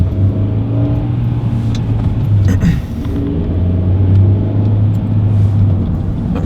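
Car interior while driving, a steady low engine drone and road rumble that holds constant throughout, with a brief shift in tone midway and no talking.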